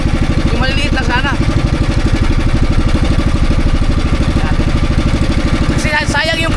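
Small boat engine running on open water near an island, a steady loud chugging drone that continues throughout while people talk over it.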